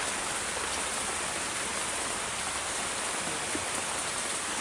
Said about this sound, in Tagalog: Lakas na naman ang ulan.